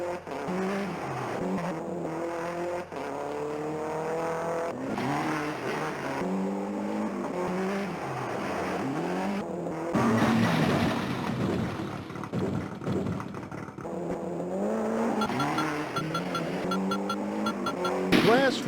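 A rally car's engine revs and rises in pitch with tyre noise in the Gaelco World Rally arcade game, with a voice talking over the continuous game sound.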